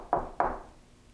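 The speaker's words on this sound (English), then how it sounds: "There was immediate knock in this room." Two sharp knocks on a surface inside a room of a haunted lighthouse, about a quarter second apart, each with a short decaying ring, fairly close and alone against quiet room tone.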